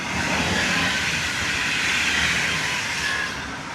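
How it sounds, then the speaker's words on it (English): A train rolls past in a continuous, fairly loud rush of wheel and rail noise with a hissing edge, fading slightly at the end, and no voices. "Okay, let's let this train pass as well."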